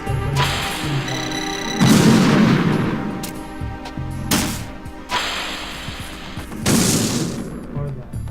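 Nikita missile strikes in Metal Gear Solid 2 produce a series of sharp, loud bursts, each followed by a rumbling decay, spaced a couple of seconds apart among steady in-game background sound.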